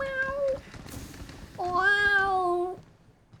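A person imitating a cat with two loud, drawn-out meows, a short one followed by a longer, wavering one, close and alone with no other talk.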